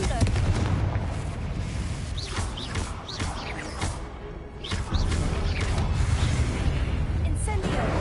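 In the Hogwarts Legacy video game, a Confringo fire blast spell goes off in loud booming bursts amid crashing combat noise, with a voice calling out spells over the rapid blasts.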